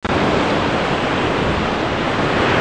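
Sea surf washes against a shore at a seaside fishing festival, a loud, dense, continuous roar of breaking water and wind with no voices.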